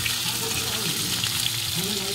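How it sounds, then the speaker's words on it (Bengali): Potato pieces frying in hot oil with whole cardamom, cinnamon, cloves and black pepper, a steady close sizzle holding constant throughout with no voices. "আলুটা লাল লাল করে ভেজে নেবো"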